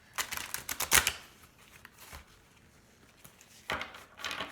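A tarot card drawn from the deck during a love reading, heard as a burst of crisp papery card flicks and shuffling near the start, a quieter lull, then another short rustle of cards at the end.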